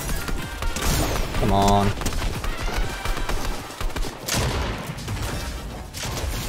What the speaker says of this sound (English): Oh, it's an IO guard shooting.